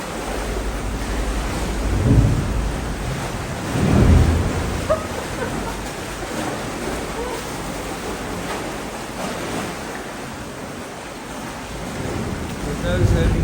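Sea waves surge and crash inside the Ovens natural sea caves near Lunenburg, Nova Scotia, as the tide comes in, a continuous heavy roar with deep booming swells rising every few seconds.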